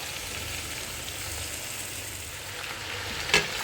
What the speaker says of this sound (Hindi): देखिए मैंने आलू डाल दिया। अब डाल के मैं इसको अच्छी तरह भूनूँगी।